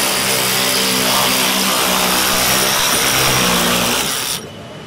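A Malco battery-powered turbo shear cutting sheet material, heard as a loud, steady motor whine with a shifting tone that cuts off abruptly near the end.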